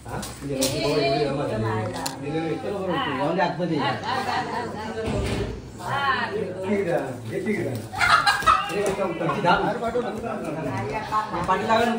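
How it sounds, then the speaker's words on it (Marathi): A rooster that has broken loose squawks and flaps amid a commotion as people chase it, talking and calling out excitedly throughout. "एक कोंबडा सुटला आहे"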